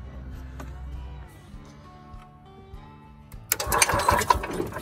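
A gas golf cart engine, freshly fueled, cranks for a few seconds with a steady churning starter rhythm, then catches into a louder, rougher running burst near the end, close by with no talk.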